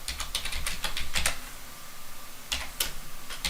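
Someone types on a computer keyboard while entering commands to configure a router interface. Quick bursts of close, crisp keystrokes come in clusters, with a quieter pause in the middle before another flurry.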